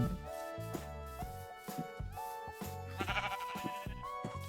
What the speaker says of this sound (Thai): ตอนนี้เห็นแต่แกะนะครับ